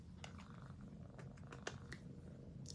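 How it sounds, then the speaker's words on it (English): A pet cat purrs close by in a low, steady, rumbling drone, with a few faint brief clicks and rustles over it and no talking. "Can you hear him purring?"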